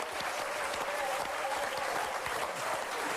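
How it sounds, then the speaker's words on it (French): A comedy show audience breaks into thick, continuous applause for a Johnny Hallyday impersonator, steady and dense across the whole moment with no talk over it. "Je vous demande de réserver un tonnerre d'applaudissements à Johnny Hallyday."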